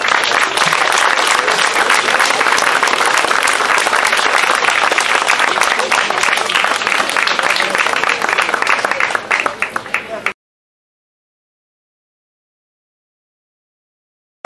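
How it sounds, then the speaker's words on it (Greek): Dense, sustained applause from a crowd at a commemoration of the Battle of Granitsa for about ten seconds, loud and close, then stopping abruptly into silence. "Ένα χειροκρότημα για τον κύριο."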